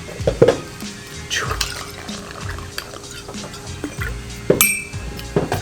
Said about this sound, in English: You grab a jigger and a bottle at the same time, whoop, and then you're ready to pour.